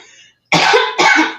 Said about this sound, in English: Hold on a second, I'm about to cough.